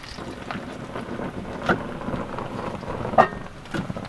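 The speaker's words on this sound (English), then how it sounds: "a bit windy" Gusting wind buffets the microphone outdoors, a low steady rumble with a couple of sharper gusts.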